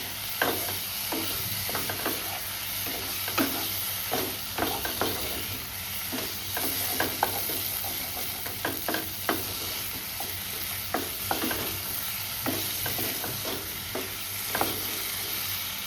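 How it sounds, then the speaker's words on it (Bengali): Fried potatoes stirred into a spice masala in a pan for a vegetarian paneer dish, a continuous soft sizzle under a quick, regular series of spatula scrapes and taps, close and steady throughout. "এবার এই মশলার সাথে আলুটাকে ভালো করে কষিয়ে নেব"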